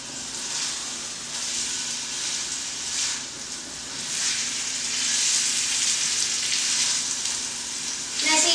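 Steady frying sizzle from a hot pan, a continuous crackling hiss with small swells in intensity, close and fairly loud, no talking.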